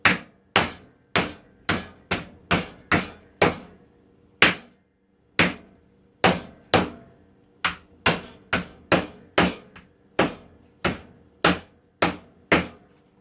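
Sharp, hard cracks of a hammer smashing hard crack candy, repeated in quick irregular bursts with brief pauses, loud and close by.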